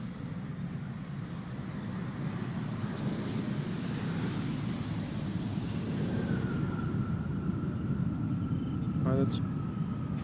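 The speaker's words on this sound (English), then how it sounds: "This is an Embraer 190 arriving from Brussels." An Embraer 190 airliner arriving at Schiphol Airport from Brussels, a steady distant jet rumble mixed with wind noise, and a faint rising whine near the end.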